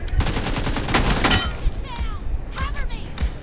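Rapid gunfire from an M24 sniper rifle in a mobile battle royale game's team deathmatch, a dense burst of loud shots over the first second and a half, then scattered game sounds with a person talking over them.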